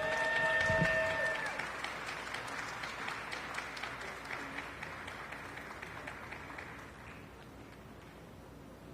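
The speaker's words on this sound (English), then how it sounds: "Another round of applause for the very accomplished Jocelyn Duarte" An audience applauds an honoree at a Latino Heritage Month celebration, sustained clapping from a crowd that starts fuller and slowly thins over nine seconds, with a brief tone and faint murmur early on.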